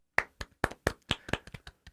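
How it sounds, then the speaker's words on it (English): A few sharp hand claps in an uneven rhythm, about a dozen distinct slaps spaced apart, close and fairly quiet with silence between them. "Please clap."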